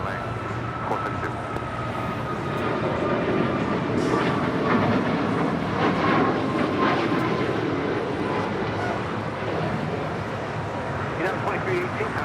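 An airliner rumbles steadily while taking off from runway 25 right at LAX, a broad, sustained roar with a faint whine on top, close and loud for the whole stretch, with voices talking underneath.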